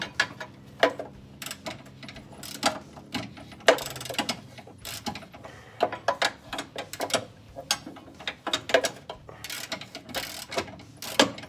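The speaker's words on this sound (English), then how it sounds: "got that wrench up on there, barely." A ratchet wrench clicks while loosening bolts on the rear differential of an M151A2 military jeep, irregular bursts of ratcheting and metallic clanks close to the microphone.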